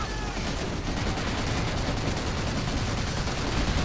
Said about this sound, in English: I was firing in the right place